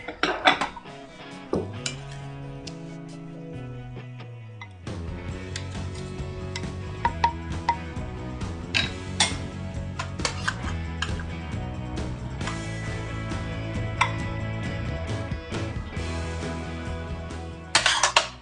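Dishes and cutlery clink and clatter repeatedly while Chinese food is plated in a kitchen. The bright, irregular knocks of plates and utensils run close and clear over a steady background, with no talk.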